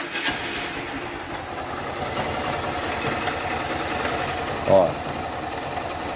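A warm Honda CG Start 160 motorcycle engine idles in neutral with a fast, steady mechanical ticking from a fault, heard close up; a voice briefly speaks over it near the end.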